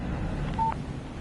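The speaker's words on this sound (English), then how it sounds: "Text message from Barry" A short electronic phone alert for an incoming text message in the video game Alan Wake Remastered, a single brief tone over a steady low game background hum.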